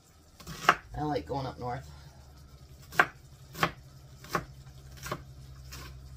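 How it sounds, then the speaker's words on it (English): Onions chopped with a knife on a board, a series of sharp, separate thuds at an uneven pace, close and fairly crisp, while a voice briefly talks between the cuts. "So there's our onions all nice and chopped."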